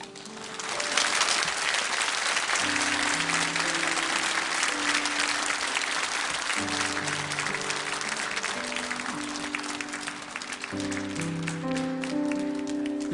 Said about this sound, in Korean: 다시 한번 큰 박수로 축복합니다.